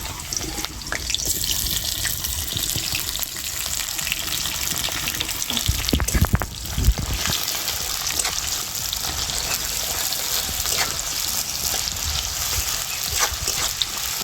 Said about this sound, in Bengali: পেঁয়াজ দুটো কেটে বেরেস্তা ভেজে নিচ্ছি।